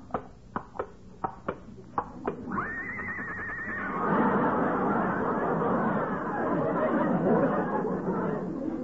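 On a radio show, a horse sound effect starts with several sharp clip-clop knocks, then a long, loud, quavering whinny breaks into a noisy, chattering neigh that runs on to the end.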